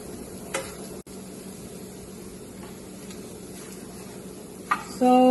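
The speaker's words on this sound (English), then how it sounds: "And we're just going to stir it a little more." Plant-based beef mixture for a vegetarian shepherd's pie is stirred in a pan over a soft, constant sizzle, with a few faint scraping taps of the utensil against the pan.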